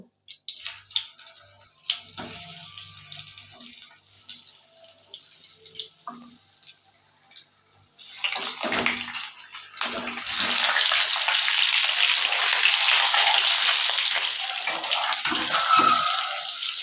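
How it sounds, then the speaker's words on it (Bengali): Boiled potatoes tipped into hot spice tempering in a pan for vegetarian Kashmiri aloo dum. A few soft clinks and light stirring come first, then a loud, continuous sizzle that swells and holds close up. "এবার এর মধ্যে দিয়ে দেব আগে থেকে সিদ্ধ করে রাখা আলুগুলো"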